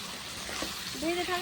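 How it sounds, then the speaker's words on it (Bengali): Prawns, potatoes and fried okra stir-frying in spices on a clay stove, a steady close sizzle under a continuous hiss, with a brief tonal whine joining near the end. "আর ভেজে রাখা ভেন্ডিগুলোও দিয়ে দেবো।"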